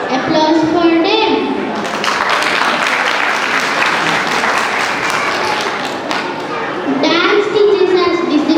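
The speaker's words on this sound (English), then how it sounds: "Let's hear another big round of applause for them." A school audience at a pre-nursery and nursery initiation ceremony at Sacred Heart Higher Secondary School breaks into sustained, loud applause for the guests, with children's voices audible before and after the dense clapping.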